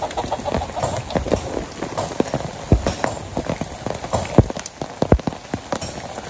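Rain falling on a Bangladesh village on a stormy day, a dense steady hiss of drops with heavier splats and knocks on nearby surfaces, loud and close, with no talk.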